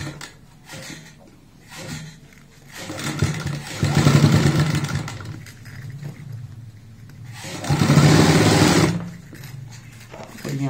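Domestic sewing machine stitching a zipper box bag, running in two clear bursts of steady, rapid mechanical whirring, with quieter pauses and handling noises between them.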